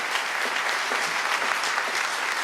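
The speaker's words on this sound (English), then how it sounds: "Clap if you agree" Sustained applause from an audience at a church fundraising gala, steady and dense with no pauses, filling the room throughout.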